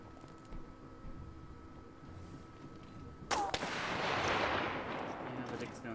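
Gunfire bursts out in This War of Mine, a sudden loud crack followed by a sustained rattling roar that swells and lingers after a quiet, humming stretch.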